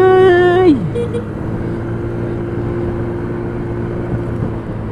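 A 2023 TVS Dazz Digitech R 110 scooter's small 110 cc engine gives a falling whine, then settles into a steady, close engine drone under road noise.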